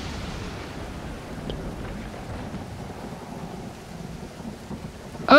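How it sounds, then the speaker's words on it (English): Thunderstorm with rain at sea in the survival game Stranded Deep, a steady close rush of rain and surf with low rolling rumble throughout, no voices. "we are not taking this back in a storm"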